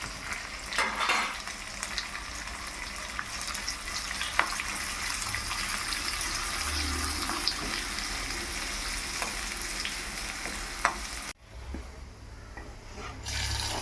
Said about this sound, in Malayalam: കറിവേപ്പിലയിട്ട് മൂപ്പിച്ചെടുക്കാം.